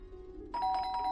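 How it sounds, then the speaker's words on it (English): A doorbell rings, starting suddenly as a bright, sustained chime that rises over a quiet, low room hum and keeps sounding to the end. "We have a doorbell? Can you believe it?"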